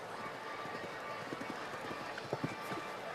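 Grand Prix show jumping horses canter around an arena, their hoofbeats a faint rhythmic thudding beneath steady crowd and arena noise.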